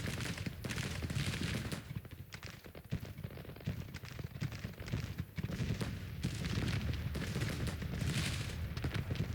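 Civil War cannon fire in Grand Tactician rolls on continuously, a dense barrage of booms and crackling volleys layered into a steady roar over about nine seconds, with no one talking.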